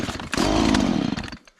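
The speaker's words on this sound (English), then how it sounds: "I've already sharpened the chainsaw blade, and I've already tightened the chainsaw blade" A freshly sharpened and tightened chainsaw roars up close and loud, running steadily for over a second before cutting off abruptly into quiet.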